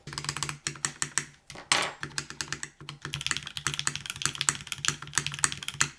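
Typing on a minimalist full-size mechanical keyboard with a slight stabilizer tick, a close run of crisp clacking keystrokes in quick irregular bursts with a couple of short pauses, no talking.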